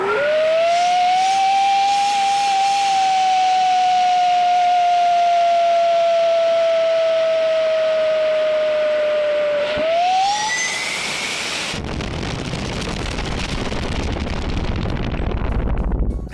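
A two-stage hobby rocket heard from its onboard camera: a loud steady whistling roar with gently falling pitch, a brief rising shriek near the end, then rushing wind noise during freefall.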